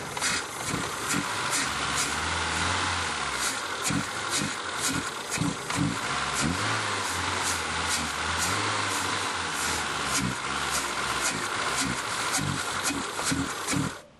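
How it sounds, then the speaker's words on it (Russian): Engine of a ZAZ Tavria car being started and revved with throttle blips while cleaning fluid is sprayed into the intake, a steady close, loud running drone with rhythmic pulses and bursts throughout. "Заводим машину и, прогазовывая, впрыскиваем туда жидкость."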